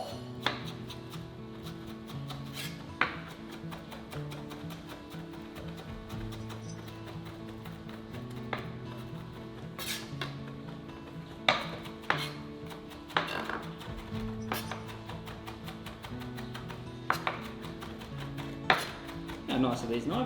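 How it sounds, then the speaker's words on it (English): A knife chops capers finely on a cutting board in a steady series of sharp taps, some louder and isolated, with background music and voices underneath for steak tartare. "he's going to chop the capers nice and small"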